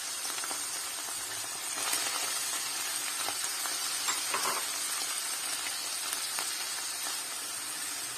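Onions added to cooked chicken frying in a pan, a steady close sizzle and hiss with light stirring scrapes and no talking.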